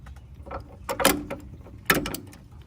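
A 1/2 inch ratchet works on tight thrust washer bolts of an S550 Ford Mustang: a few short clicking and clunking bursts of the mechanism, close and fairly quiet, with pauses between and no speech.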